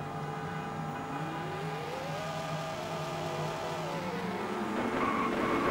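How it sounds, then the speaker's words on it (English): Racing car skidding in a 1996 PlayStation racing demo, an engine whine that rises and falls in pitch over a constant buzzy drone, steady and mid-loud, with a brief higher tone near the end. "Horrendous high-pitched skidding sounds constantly."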